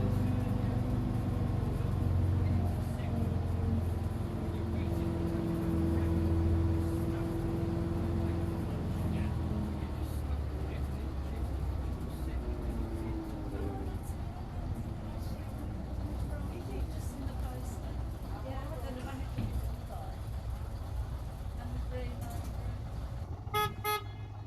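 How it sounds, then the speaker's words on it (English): A London Routemaster-style heritage bus at the Black Country Living Museum pulls away with a loud low engine rumble that fades slowly, a horn-like toot and voices in the background. "Away goes the bus"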